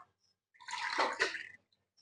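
Water pours into a pot of rice for jackfruit biryani in one short, close splashing stream of about a second, with silence on either side.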